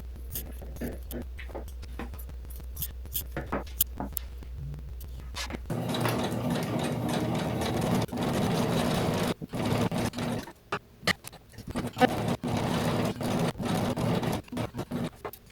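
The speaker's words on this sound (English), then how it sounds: "sew a zigzag stitch over on top of it so that my straight stitch does not come undone" A sewing machine whirs in close, steady bursts, zigzag stitching over a cut fabric edge on a tailored top, broken by short pauses and handling clatter.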